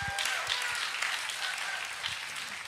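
A church audience claps steadily, a dense even patter of many hands close by, keeping up without a break.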